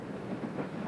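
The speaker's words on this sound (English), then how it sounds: "Errigal drew its heavy load out of Strabane towards Portadown" Steam locomotive hauling a heavy train out of Strabane towards Portadown on the Derry Road, a steady dense rumble and rolling rail noise throughout, fairly loud and continuous with no voices.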